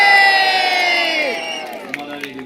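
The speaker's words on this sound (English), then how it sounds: "Can I hear the biggest, the loudest cheer for the Warwick Castle" Loud crowd cheering and whooping for the Warwick Castle trebuchet, the world's largest working siege engine, at an outdoor castle show. Sustained roar that fades gradually, with a few sharp shouts near the end.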